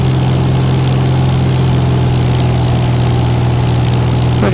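A light aircraft's propeller engine drones steadily on final approach for a touch-and-go on runway 24, a loud constant hum at reduced power with no talk over it.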